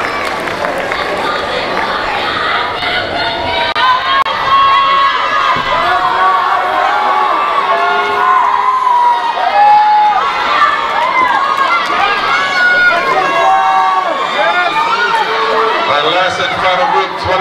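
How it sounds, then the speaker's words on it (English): Crowd at a Heiva Tahitian dance competition in San Diego cheers, whoops and applauds loudly and continuously, a dense wash of many voices shouting with bright high-pitched yells rising throughout. "One more round of applause for these beautiful,"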